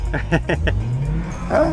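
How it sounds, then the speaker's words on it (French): Audi RS4 with its 4.2-litre V8 running, a short rumbling idle and rev with a rising engine tone, heard close and loud while someone talks over it. "On est avec le V8 4 litres 2 qui a servi dans des modèles très exclusifs"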